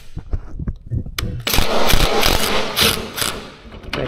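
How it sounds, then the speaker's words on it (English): A ratchet crimping tool clamps down on a wire terminal during a horse trailer wiring upgrade, giving a close, loud burst of clicking and grinding mechanical noise after some quieter scattered clicks. "Snug that down in there so it's crimped"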